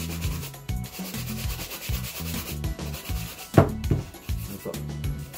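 An Edoya brush scrubs Crockett & Jones leather shoes during a full shoe-shine maintenance, making close, steady rubbing strokes in a quick repeating rhythm with one sharper, louder swipe midway.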